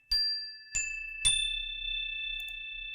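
Three separate metal chimes are struck one after another, each giving a bright ringing tone that lingers and slowly fades, close and clear with no talking.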